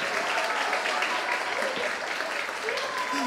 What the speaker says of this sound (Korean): 여러분 다시 한번 우리 친구에게 박수 부탁드리겠습니다